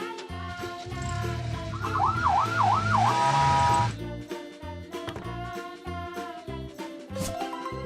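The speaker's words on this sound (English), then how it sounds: "Police car." A police car siren wails in a rising and falling two-tone pattern for a couple of seconds, heard over loud cheerful background music.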